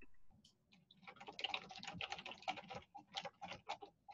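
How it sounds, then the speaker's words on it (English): Someone types on a computer keyboard during a Zoom call, a close, busy patter of key clicks in irregular bursts with short pauses, heard alone. "Oh, she's typing."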